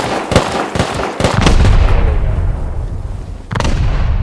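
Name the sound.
gunshots in the video game Rust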